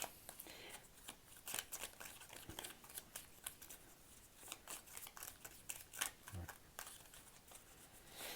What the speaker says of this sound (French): je vais essayer de recouvrir ces cartes-là